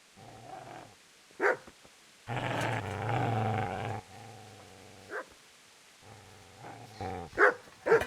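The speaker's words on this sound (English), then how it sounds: "Get away, you mutt!" A dog in the medieval video game Kingdom Come: Deliverance growls low and sustained, breaking into sharp barks and yips in short, close bursts separated by brief pauses.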